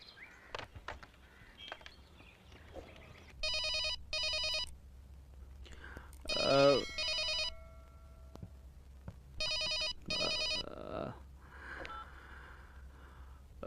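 A telephone rings faintly in short double bursts against a low hum and scattered background noise, with a brief voice-like sound in between.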